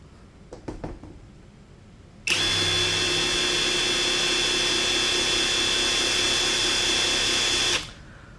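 A Dongcheng DCPB488 cordless brushless impact wrench spins freely in low mode, giving a steady high whine for about five seconds after a few faint clicks. It then stops sharply.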